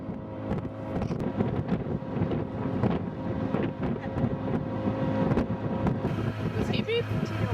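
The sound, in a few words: boat sailing in wind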